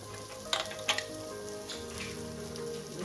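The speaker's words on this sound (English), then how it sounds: "we're going to get our meat in. Let that start cooking" Meat sizzles as it starts frying in a pan for a Chicago-style deep dish pizza, a steady close crackle with two brief sharper clinks early on; no talking.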